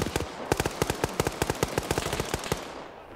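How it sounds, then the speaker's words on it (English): Modded grenade explosions in a video game pop off as a rapid, steady string of sharp, punchy bursts, dozens in quick succession at moderate loudness, with no voices. "I don't know what mod changed the frickin' grenade sound, but they just sound beefy now"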